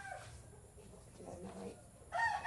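A chicken clucks in a few soft, scattered bursts, fairly faint against a quiet household background, with a louder squawk near the end.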